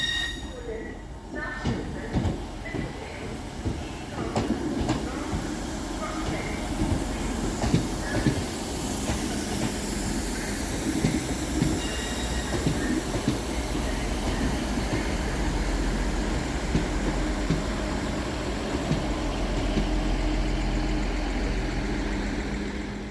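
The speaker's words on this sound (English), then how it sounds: "34 minutes late is 158752, working the 1648 Northern service from Hull through to Halifax" A Northern passenger train, unit 158752, running late at Selby railway station, with a loud steady rumble of diesel engine and rolling wheels on rail building and holding close by, as voices talk over it on the platform.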